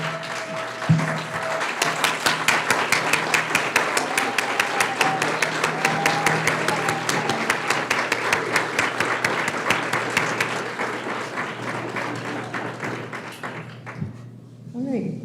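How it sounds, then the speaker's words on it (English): Standing ovation at a school board of education meeting: a large roomful of people clapping in a steady, sustained roar that gradually thins out and fades, followed by a few scattered thumps. "let's stand and give them a standing ovation"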